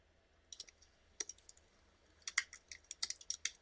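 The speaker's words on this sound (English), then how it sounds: "You hear click, click, click. She's typing," Quick, light keyboard typing in short bursts of clicks, close by, with brief pauses between runs and no voices.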